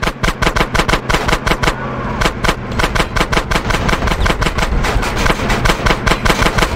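Rapid gunfire in GTA San Andreas aimed at a car driver: loud, close bursts of sharp shots in a fast, continuous rhythm with a brief pause early on, over a faint engine rumble.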